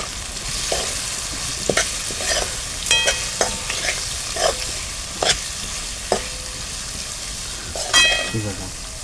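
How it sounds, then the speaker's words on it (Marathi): A spoon stirs khichdi with val beans and rice in a sizzling pot. Scraping strokes and metallic clinks come at an irregular pace over a constant close frying hiss. "बघा अशी ढवळून घेतली."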